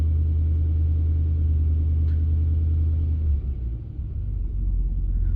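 A 2006 Pontiac GTO engine idling smoothly after a fuel injector replacement for a misfire, a steady deep rumble that dips briefly and settles again, no voices.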